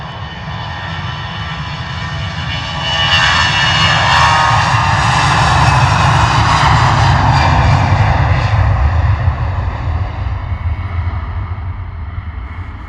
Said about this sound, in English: Lovely departure there from the EasyJet A320 though.